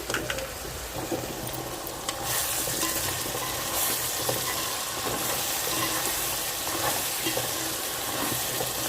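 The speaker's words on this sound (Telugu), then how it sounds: "టమాటా ముక్కలు బాగా మగ్గిపోవాలండి బాగా వేగినాయండి" Tomato pieces fry in a pan for a prawn and lady finger curry, making a steady, close, continuous sizzle with occasional light stirring scrapes throughout.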